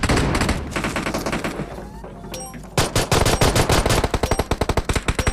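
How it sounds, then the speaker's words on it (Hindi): Automatic weapon fire in the battle royale video game PUBG: dense, loud bursts of rapid shots that thin out briefly and then return as a sharp, evenly spaced volley close by. "हर जगह फायरिंग साउंड और बंदों के फुटस्टेप आ रहे थे"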